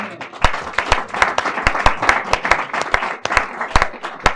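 Church congregation at a worship service applauding together, loud uneven clapping with sharp individual claps, joined by crowd voices throughout.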